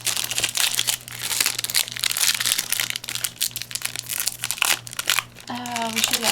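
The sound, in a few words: tearing open Yu-Gi-Oh booster pack wrappers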